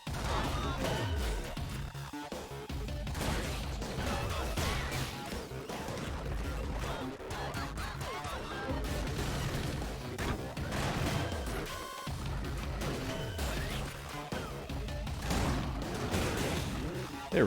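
Rapid bursts of the dude deleter gun in the ScourgeBringer video game, dense crashing blasts and impacts mixed with game music and effects, with a voice talking now and then underneath.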